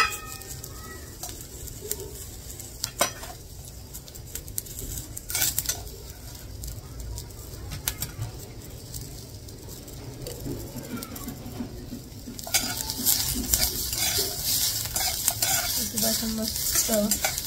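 Ginger, garlic cloves and spices roasting in a pan while being stirred, a quiet crackle with scattered scrapes and clicks that turns louder and busier in the last few seconds.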